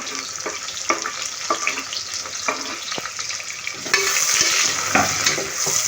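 Two small onions and four green chillies fry in a pan, a steady loud sizzle with intermittent stirring scrapes and clinks, the sizzle swelling brighter toward the end.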